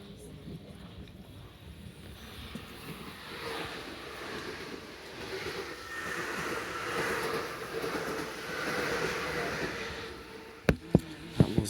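A Southeastern train bound for Charing Cross passes alongside, heard from aboard another train. It swells into a broad rushing rumble that builds and fades over several seconds, followed by a few sharp clanks.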